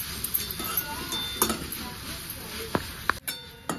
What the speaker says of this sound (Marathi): छान असं आपल्याला ते मिक्स करून घ्यायचं